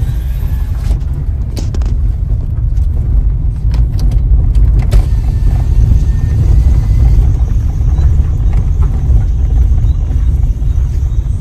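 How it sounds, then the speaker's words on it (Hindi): Steady roar of wind rushing through an open car window on a rural village road, a constant low rumble with road noise throughout, loud and unbroken with no talking. "नहीं हवा सुनो एक बार"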